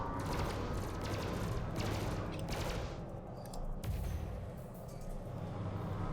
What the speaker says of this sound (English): Let's see if we can hit him with some of these cannon rounds.